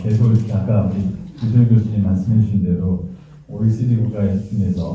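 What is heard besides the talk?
No everyday noise stands out behind the speech.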